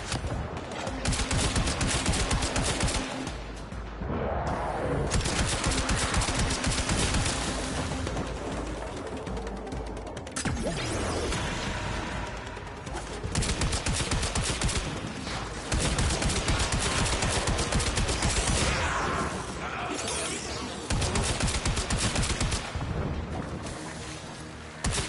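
Sustained gunfire from shooting enemies in Warframe, loud and dense rapid shots pouring out almost without pause for the whole stretch, broken by a few short gaps, with no talking.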